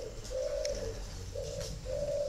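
Caged spotted doves coo in repeated low, mellow phrases, three drawn-out coos separated by short pauses, close and clear over faint background rustle.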